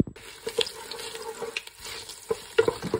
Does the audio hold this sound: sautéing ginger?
yes